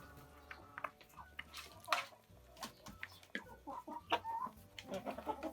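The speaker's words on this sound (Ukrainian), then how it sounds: "Ось це барбазє, курочка така велика." Several Barbezieux chickens cluck and squawk nearby in scattered bursts, with faint dripping and rustling in the background.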